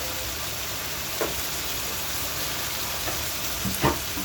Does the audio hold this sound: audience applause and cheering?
no